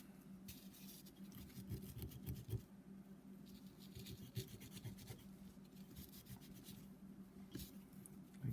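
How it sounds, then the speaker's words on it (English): Scrubbing aluminum residue off a part of a BMW N54 engine from a 135i E82 rebuild: steady, close rasping brush strokes in a continuous rhythm, with no talk. "There's like a line of aluminum around here. So I try to scrub it."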